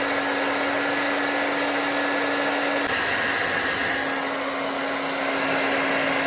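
Havells HD3225 1800-watt hair dryer with cool shot running close up, a loud, constant whooshing drone with a steady motor whine that shifts in tone partway through as the setting changes, with no voices.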